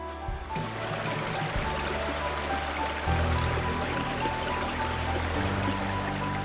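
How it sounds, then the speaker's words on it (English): Waterfalls at Poço da Ribeira do Ferreiro in the Azores pour down a mossy cliff into a lagoon, giving a steady, loud broadband rush of falling and splashing water that holds constant throughout. "Behind the dense vegetation, the sound of water grows steadily louder. Then Poço da Ribeira do Ferreiro suddenly appears at the base of a cliff covered in green moss."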